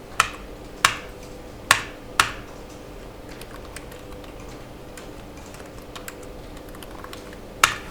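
Sharp, isolated clicks of computer keys being struck, a few crisp presses early on, then a quiet gap before one last firm keystroke like an Enter press.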